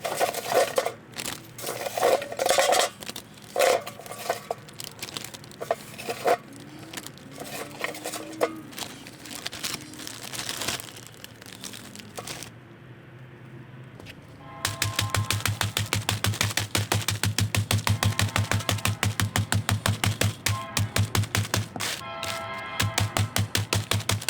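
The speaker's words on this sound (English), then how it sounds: "put the charcoal pieces into a plastic bag so we can beat them with a hammer" A hammer beats charcoal pieces inside a plastic bag to powder them, making irregular thuds and crunchy crinkling, then after a short pause a fast, steady run of loud repeated blows.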